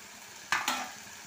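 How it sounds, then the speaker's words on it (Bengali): Prawns go into a hot pan for a Bengali chingri jhal, giving two quick bursts of loud sizzling close up that settle into a softer fry, with no talking. "এবার চিংড়ি মাছটা দিয়ে দিলাম।"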